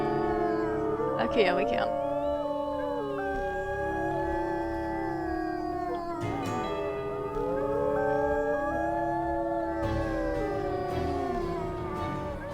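A wolf pack rally in Wolf Quest, several wolves howling together in long overlapping, gliding tones with yips mixed in, loud and sustained throughout, while a person briefly speaks over it.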